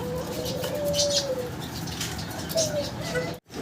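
Pigeons coo at a busy pigeon market, a few soft rolling coos and a brief flutter of wings heard over crowd murmur and background chatter.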